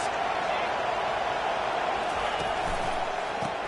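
A college football stadium crowd at a Georgia game roars continuously to back its defense. The noise is a dense, unbroken wash at an even level, with no break or lull.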